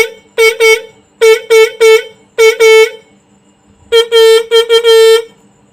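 Roots dual motorbike horn tested after tuning, sounding in short loud honks: a pair, a triple, a double, then a rapid burst of four with gaps of silence between.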